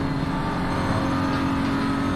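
A race car in Assetto Corsa Competizione roars close by on the right, its engine a loud, steady drone that fills the whole moment without any voices over it.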